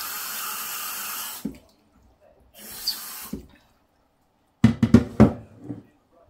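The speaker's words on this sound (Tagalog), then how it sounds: "Nilagyan natin ng tubig." Water from a tap runs into a pot of beef stew in a home kitchen, two pours of a second or so each, followed by a few clanks of pot and lid nearby.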